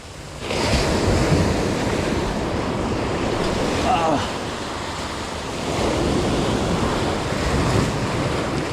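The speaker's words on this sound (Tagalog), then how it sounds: "Ang laki ng alon." Large ocean waves crash and roar continuously at a fishing spot, loud and close with heavy wind buffeting the microphone, swelling twice.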